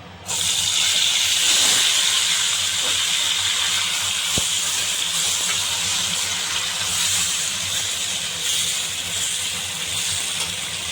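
Thinly sliced tomato pieces drop into hot oil in a pan for a bitter gourd pickle, setting off a loud, steady sizzling hiss that starts abruptly and continues unbroken.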